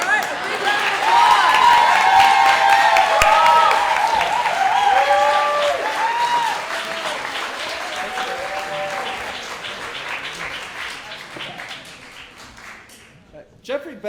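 Audience applause at a community theater awards ceremony. Loud, full clapping with cheers and whoops over it stays strong for several seconds, then slowly thins out and ends in a few scattered claps.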